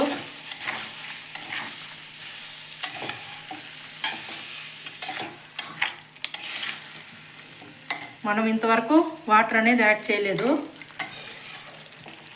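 Chicken pieces fry with tomato puree in a pan over a medium flame for a spicy curry, with repeated scraping stirs over a constant sizzle; a person talks toward the end.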